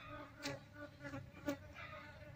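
Honey bees of an Apis cerana colony drone in a low, steady buzz near the hive, with a few brief louder swells as individual bees pass close.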